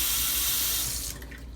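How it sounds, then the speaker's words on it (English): Water runs hard from a newly installed sink faucet in a steady, close hiss that eases slightly toward the end. "we have running water"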